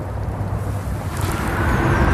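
Cars pass on a nearby road outdoors while wind buffets the microphone, making a continuous broadband rush with a low rumble that swells slightly toward the end and has no speech.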